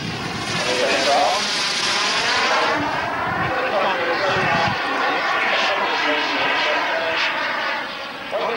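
A giant turbine-powered model Supermarine Swift jet flying at full throttle, a loud roaring whoosh that rises and sweeps in pitch as it passes, with a voice talking over it.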